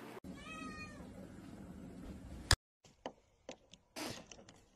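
A cat meows once, clear and close, followed by a few scattered clicks and knocks in otherwise quiet surroundings.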